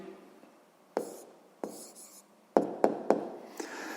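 A pen or pencil writes down a maths answer on paper in short separate strokes and taps, a few isolated scratches followed by a quick cluster of three sharp marks, close and quiet.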